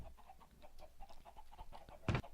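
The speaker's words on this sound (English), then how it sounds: "It's a chicken farm." Chickens on a chicken farm in a video game cluck faintly in a soft, repeated patter, and one louder squawk near the end.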